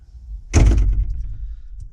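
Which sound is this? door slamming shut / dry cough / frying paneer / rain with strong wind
door slamming shut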